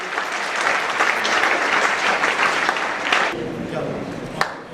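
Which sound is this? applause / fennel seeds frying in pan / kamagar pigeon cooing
applause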